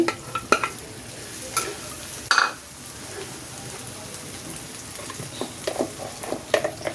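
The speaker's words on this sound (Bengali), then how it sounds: "পেঁয়াজটাকে এই কড়ার মধ্যেই রান্না করছি। পেঁয়াজ বাটাটা দিয়ে দিচ্ছি" Onion paste cooks in a wok for a prawn malai curry, a low steady sizzle with several spatula scrapes and knocks against the pan, close by and no one talking.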